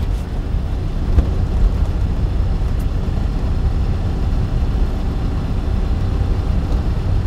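A manual-transmission car accelerates during a driving lesson as it is shifted up toward third gear: a steady, close engine drone fills the cabin throughout, with no one talking.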